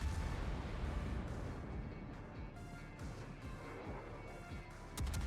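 Naval gunfire in a World of Warships tournament battle: a dense, continuous low rumble of heavy booming shots and blasts rolls on throughout, slightly heavier at the end, with no clear talk.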